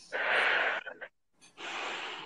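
Deep breaths during a breathing exercise in an emotional release session, two long airy inhalations or exhalations separated by a short pause, close and fairly loud.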